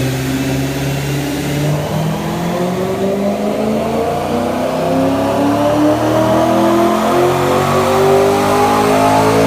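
A stock Corvette engine on a dyno revs loud and close, its pitch climbing steadily under load as harmonic tones rise through one long continuous pull, with no voices.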